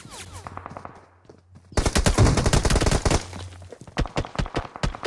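Gunfire in a battle royale mobile game: several rapid bursts of automatic fire crackle close and loud, broken by short pauses, with a low hum underneath during the quieter stretches.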